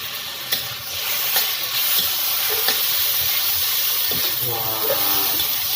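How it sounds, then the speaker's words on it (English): Char siew sauce hits a hot wok of fried rice and sizzles in a steady, loud hiss, with a few spatula scrapes and clanks tapping through the frying. "Pour the sauce from the char siew."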